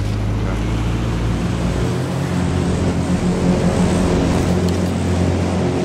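A vehicle in the survival shooter H1Z1 drives up from behind, its steady engine drone holding loud and continuous throughout, with a heavy low rumble that eases slightly partway through.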